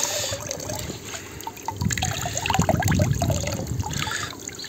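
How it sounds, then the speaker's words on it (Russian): A stream of water pumped by a pool pump pours out of a hose onto the ground, giving a continuous close splashing and trickling rush that rises slightly in the middle, with no talk over it. "Такой вот поток воды. Сейчас он гонит."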